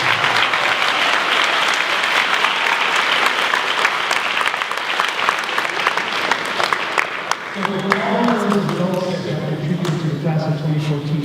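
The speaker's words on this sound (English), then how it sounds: "So how about you give them a round of applause?" Sustained applause fills a graduation ceremony hall as the audience claps for parents and family, loud and dense, then a speaking voice comes in over the fading clapping near the end.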